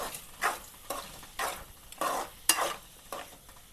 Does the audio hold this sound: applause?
no